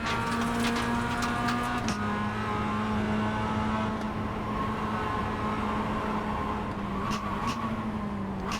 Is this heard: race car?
yes